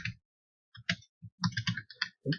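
A computer keyboard is typed on while working in a Tkinter Python text editor, giving short bursts of close, quiet key clicks separated by brief pauses.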